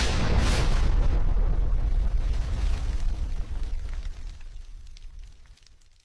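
Bomb explosion sound effect, a loud deep blast with a roaring low rumble that slowly dies away over several seconds, heard alone.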